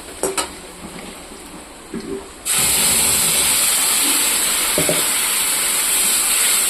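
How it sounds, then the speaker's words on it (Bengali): Ginger, green chili, garlic and tomato paste hit a pan of browned onions, and a loud, steady steam-and-sizzle hiss swells up and holds after a few quiet clinks. "এটা এখন আমি একটু ভাজা ভাজা করব।"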